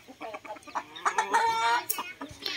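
Chickens and roosters cluck and call close by at a farmyard feeding, a rapid run of short clucks rising into a longer drawn-out cry, with other birds chattering underneath.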